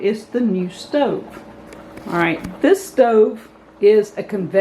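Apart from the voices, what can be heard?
No everyday noise stands out behind the speech.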